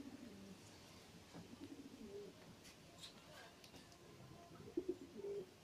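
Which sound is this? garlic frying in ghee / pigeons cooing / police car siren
pigeons cooing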